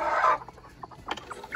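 A broody hen sitting fluffed up in her nest gives a short loud burst of clucking, followed by softer, scattered low clucks close by.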